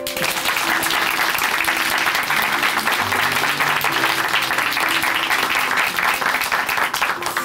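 Sustained, dense applause from a large church congregation, steady and loud throughout with no pauses.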